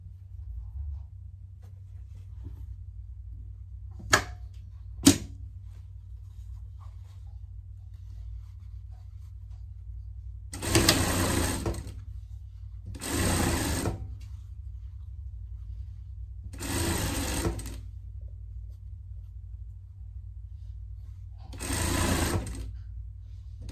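A sewing machine joins two denim hood pieces for a pet vest, running in four short, separate bursts of stitching with quiet gaps between them, preceded by a couple of sharp clicks, against a steady low hum.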